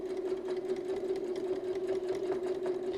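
A quilting sewing machine stitches around a rotating mandala pattern guide with an even, continuous whir and fine rhythmic ticking throughout.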